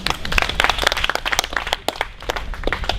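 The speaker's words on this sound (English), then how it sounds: "Round of applause for Henry" A comedy-show audience claps for Henry in a dense, sustained burst of many hands, loud and close, with no voices over it.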